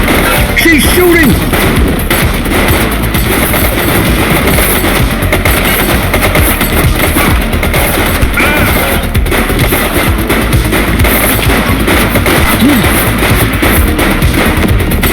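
Rapid, dense gunfire from The Precinct crackles loudly and almost without pause through the whole stretch, like close-range automatic bursts mixed with shouting voices.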